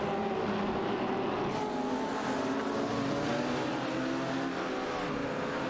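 Race car engines roar steadily in a racing video game, a continuous loud droning whine with several cars overlapping and no break.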